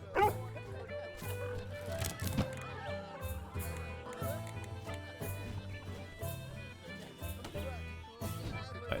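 Dog barks and whimpers from a working dog beside an old veteran in The Waylanders fantasy role-playing game, repeated yips over steady game music, with some speech.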